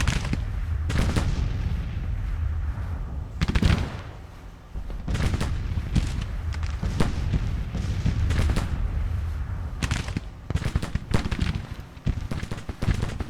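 Repeated gunfire in the Civil War battle video game Grand Tactician: The Civil War, at the Battle of Cumberland: booming musket and artillery-like shots crack out in irregular bursts and volleys, some clustered, over a low rumbling battlefield backdrop.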